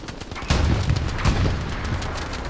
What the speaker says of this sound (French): Ça tire.